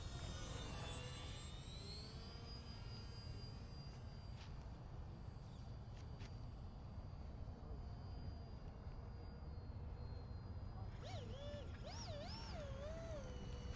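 ParkZone 940mm RAF S.E.5a WWI biplane, an electric RC model, making low passes over an RC flying field, a steady whirring drone under constant wind noise with a brief rising and falling whine near the end.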